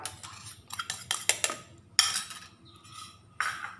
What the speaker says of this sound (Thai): โขลกให้เข้ากับเครื่องนะครับ